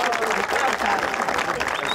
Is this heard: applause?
yes